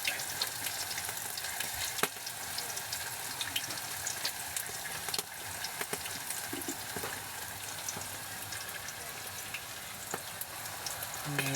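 Garlic and ginger fry in a pan with a steady, close sizzle and crackle that runs throughout, dotted with a few sharp clicks of stirring.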